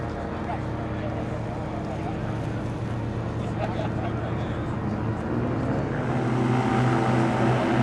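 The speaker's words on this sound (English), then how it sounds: "This ultralight takeoff was the first of many takeoff" Ultralight seaplane taking off from the water at a seaplane fly-in, its propeller engine droning steadily and loud throughout, the pitch rising gently toward the end with a faint voice in the background.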